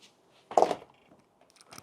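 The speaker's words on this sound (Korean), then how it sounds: "딱 빡빡하게 닫히는 소리가 들리시죠?" A door fitted with new weatherstrip seals shuts firmly with one muffled, solid thud, followed by faint rustling and a light click as it seats tightly in the frame.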